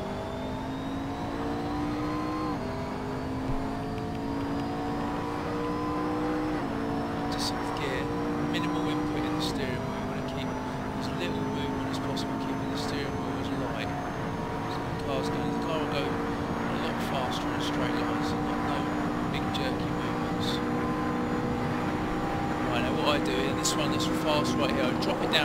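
A car engine revving and accelerating through gear changes after braking into corners, pitch climbing and dropping with each shift, steady and fairly close, with someone talking over it.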